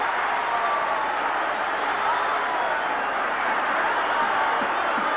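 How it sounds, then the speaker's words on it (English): A large stadium crowd at the 1973 VFL Grand Final, Richmond vs Carlton, roars continuously after a goal in a dense, steady wash of cheering and clapping, loud and sustained throughout with no pauses. "listen to the crowd, they're going mad"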